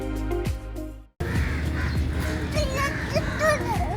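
Crows in a Kochi town area caw repeatedly in overlapping calls, fairly close, over a busy background with children's voices after an abrupt cut from a low hum.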